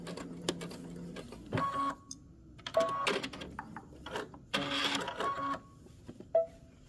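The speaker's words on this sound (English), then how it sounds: "And you're going to stitch all the way to the end. And make sure you back stitch." A sewing machine stitching a seam of a slip dress and back stitching, heard as short, close bursts of mechanical whirring separated by brief pauses, with no speech.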